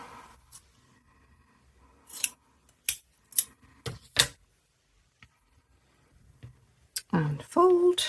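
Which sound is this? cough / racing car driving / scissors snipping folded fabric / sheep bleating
scissors snipping folded fabric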